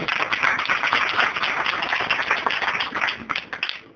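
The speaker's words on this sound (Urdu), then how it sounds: "زوردار تالیاں" A congregation applauds during a church sermon, with brisk, uneven hand clapping that stays fairly close and loud and thins out near the end.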